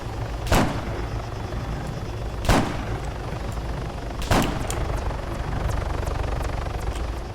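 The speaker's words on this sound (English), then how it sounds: "Alright, that chopper. Did you hit the helicopter?" A helicopter in the Call of Duty video game thumps continuously with a rotor drone, punctuated by three loud, sharp gunshot-like bursts spaced about two seconds apart.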